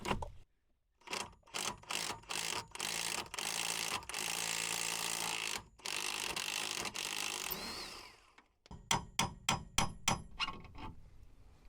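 A tool works loose an old, seized bolt on a van, one that had not been undone in 15 years. It makes repeated close bursts of metallic ratcheting and clanking, followed by a series of sharp rapid knocks.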